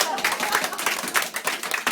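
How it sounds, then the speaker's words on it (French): A live comedy-show audience breaks into steady applause, dense overlapping hand claps rolling on without pause, close and fairly loud, with faint crowd noise mixed in. "Ouais, ça mérite un applaudissement."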